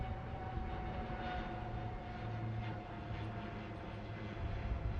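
A formation of naval aircraft flies past at a Liberation Day ceremony, a steady droning engine roar that holds evenly throughout at moderate distance.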